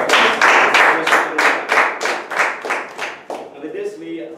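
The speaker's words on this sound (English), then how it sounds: "So he deserves a very good round of applause." An audience at a Toastmasters meeting claps in a burst of rhythmic, closely spaced hand claps that stays loud, then thins and fades out toward the end.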